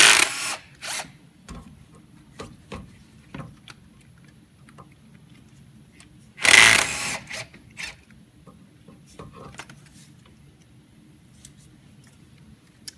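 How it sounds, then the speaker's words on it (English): A ratchet loosens four 8mm valve cover bolts on a GM truck engine, such as a Silverado or Tahoe, during a lifter replacement. Loud bursts of rapid clicking come at the start and again midway, with sparse quieter clicks between and no talking. "Let's go ahead and remove these 4 8mm bolts holding on the valve cover."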